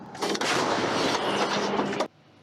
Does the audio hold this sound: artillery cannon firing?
yes